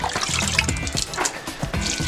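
Water splashes and trickles as it is poured into a mortar mix of sand on a building job, a continuous close gurgle with wet slaps and no speech over it.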